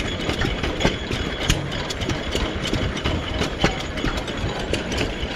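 An early-1960s vintage vehicle at an outdoor display, its engine running steadily with a dense, continuous roar, loud and close, without clear separate rev peaks.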